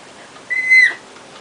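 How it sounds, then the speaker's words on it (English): Single short whistled note from a child's mouth, a clear steady tone that rises briefly and stops, close and fairly loud over quiet background. "I can whistle with my mouth open."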